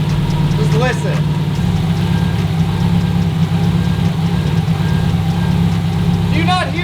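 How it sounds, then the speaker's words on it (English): A 2004 Subaru WRX STI engine idles roughly with an uneven, loping low rumble. It is loud and close, with faint chirps and other background sounds over it. "Do you guys hear how wonky the idle is?"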